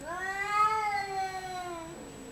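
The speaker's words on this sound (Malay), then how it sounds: "Kucing biasanya berebut pacar tuh." Cats caterwaul and fight outdoors during a lunch break, a single long rising and falling yowl that sounds near and loud against quiet background noise.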